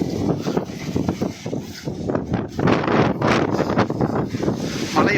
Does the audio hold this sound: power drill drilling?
no